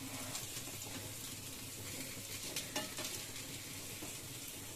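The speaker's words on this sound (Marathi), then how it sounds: "आता इथे आपली सुरमई फ्राय होत आहे. आणि मी आता टर्न करते." Kingfish (surmai) pieces fry in a pan with a steady sizzle, joined around the middle by brief scraping as the pieces are turned.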